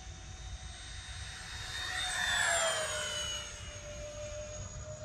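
An E-flite A-10 Thunderbolt II model jet with 64mm electric ducted fans whines overhead on its first flight, rising in pitch and loudness as it nears, then falling away as it passes.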